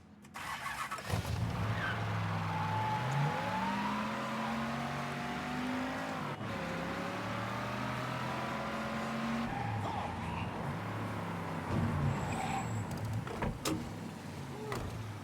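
A car engine drones steadily in the video game Mafia III, its pitch sweeping up and down through gear changes and revs across the whole stretch, loud and continuous with a brief break midway.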